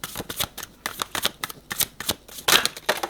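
Tarot cards are shuffled and drawn in a rapid, crisp, riffling rhythm, close and loud, with many brisk flicks and a louder burst near the end, with no talking.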